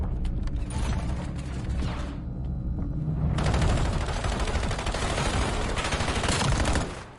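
Rapid automatic gunfire in the Black Ops 7 Survive the Island mode, sustained bursts of shots crackling continuously, growing denser and louder midway before cutting off near the end.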